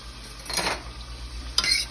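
Fried cabbage and cornbread fritters cooking in a pan, with a soft steady sizzle and a couple of brief clinks of a utensil stirring and scraping against the pan.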